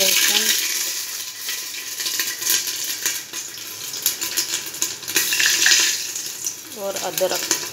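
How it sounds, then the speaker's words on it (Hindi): Oil sizzles and crackles steadily in a pan as bay leaf, garlic, ginger and onion are stirred for taheri, with occasional scraping of a spoon against the pot. "इसको तब तक भूनेंगे जब तक इसका कच्चापन नहीं चला जाए।"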